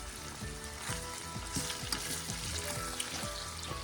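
Home fries and potatoes sizzle steadily in a hot pan while a utensil stirs them, scraping the pan with repeated soft knocks, close and without talk.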